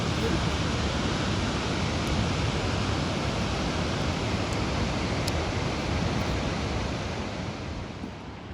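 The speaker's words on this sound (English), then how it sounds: "Nice waterfall though." A waterfall rushes in a loud, continuous, even hiss of falling water that fills the whole stretch and fades only slightly at the end.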